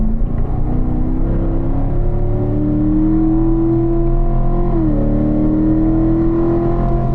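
A race car accelerates hard through turn 3 on a circuit, its engine note climbing in a loud, close, steady rising drone, dipping briefly at a gear change before pulling upward again.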